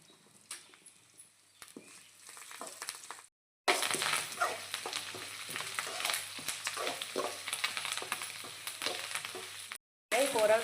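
Mint chutney ingredients sauté in a hot pan, giving a steady crackling sizzle with scattered sharper pops and a few light scrapes, broken by two brief silent gaps.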